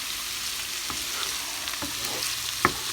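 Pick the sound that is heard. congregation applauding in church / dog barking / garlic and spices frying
garlic and spices frying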